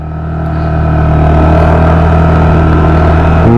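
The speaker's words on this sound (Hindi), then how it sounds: "अब आपकी स्कूटर चालू भी हो गई बढ़िया से" A 2023 Honda Activa H Smart scooter engine, just brought to life with a silent start, idling in a steady close hum that swells slightly louder over the first second and then holds even, with a small shift at the end.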